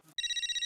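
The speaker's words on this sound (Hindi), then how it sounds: "अब ये किसका फोन आ रहा है?" A phone ringtone sounds in a TV comedy scene, starting abruptly with a bright, fast pulsing electronic trill that repeats evenly and clearly, with no talking over it.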